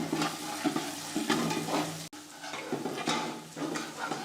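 Field beans tossed into onions frying in a pan give a soft, quiet sizzle with a few stirring scrapes in uneven bursts, briefly cut off midway. No one speaks.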